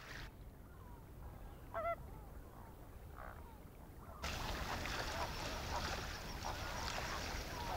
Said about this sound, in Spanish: el cisne coscoroba, una de las aves más amenazadas y escasas del mundo